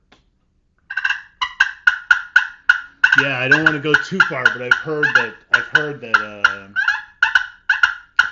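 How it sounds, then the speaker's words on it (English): Rapid, rhythmic purring calls of turkey hens fighting repeat throughout, while someone talks over the middle section. "Fighting purrs, you'll hear hens beating the snot out of each other"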